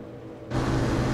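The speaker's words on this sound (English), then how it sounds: "Oh, no, it's not music. It's a boat." A boat approaching in the horror video game Man of Medan, a sudden loud, broad engine rumble cutting in after a quieter ominous stretch and holding steady.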